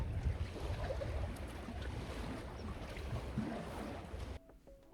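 Steady, soft water flowing outdoors in Sweden makes a continuous wash that cuts off abruptly near the end, with no one talking.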